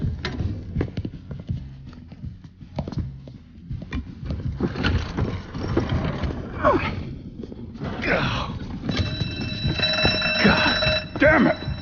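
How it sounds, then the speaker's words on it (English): An alarm goes off during a heist in the video game Mafia 3, ringing as a steady electronic tone over busy game noise of footsteps and clatter, with voices talking throughout. "You triggered the fucking alarm?"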